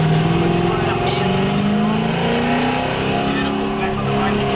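A V8 Supercar engine pulls hard under throttle, a loud close rising drone that climbs through gears, with someone talking over it.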